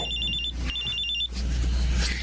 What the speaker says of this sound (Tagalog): Oh, may tumatawag sa cellphone ko.